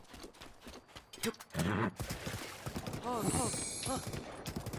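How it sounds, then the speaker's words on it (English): A horse in the video game Zelda: Breath of the Wild, with clip-clop hoofbeats, snorts and a whinny amid game sounds and rustling. "Gotta feed the horses, man."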